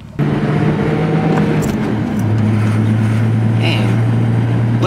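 A Nissan R32 Skyline on new coilovers and wheels drives along steadily, its engine droning loud and close inside the cabin with a low sustained hum that shifts pitch midway as it changes speed.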